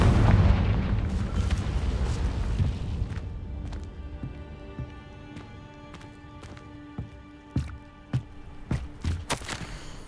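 A Confringo spell in Hogwarts Legacy bursts with a heavy, rumbling boom that slowly fades into a lingering ringing tone, followed by scattered light clicks and thumps.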